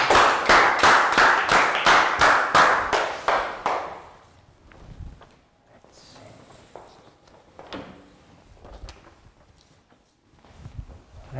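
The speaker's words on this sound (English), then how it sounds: "Big round of applause for Prel." A classroom of young pupils claps for a classmate in a steady burst of about a dozen loud, close claps lasting a few seconds. Quiet shuffling and light knocks follow.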